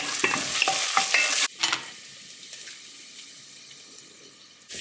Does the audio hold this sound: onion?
yes